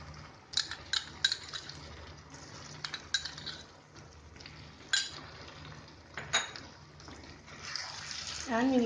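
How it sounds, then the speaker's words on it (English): A spoon stirs chicken curry masala paste mixed with yogurt in a pot, giving soft wet scraping and repeated sharp clinks against the pan at irregular intervals, close and fairly quiet. "we need to stir this nicely"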